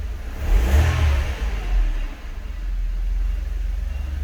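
A Mercedes E220 W124 coupe with the M111 engine, raised on a lift and in gear, revs up under a brief push of throttle, swelling loudly for about a second and a half before settling back to a steady running hum.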